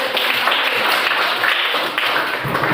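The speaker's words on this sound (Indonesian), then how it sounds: "berikan tepuk tangan, kita tepuk tangan" A classroom of children applauds together after classmates read their group work aloud, giving a dense, continuous patter of many hands clapping, fairly loud and close, sustained for a few seconds without any clear talking over it.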